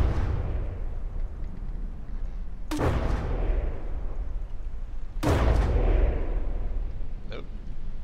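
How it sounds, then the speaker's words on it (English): A grenade launcher fires in the video game From the Depths: two heavy booming launches a few seconds apart over a constant low rumble, followed by a faint later pop. "I should be just using the grenade launcher"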